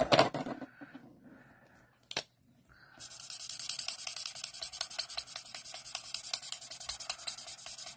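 A drying chisel-tip marker colors in a drawing, scratching out fast, rhythmic strokes up close for several seconds after a few isolated scrapes and a short pause.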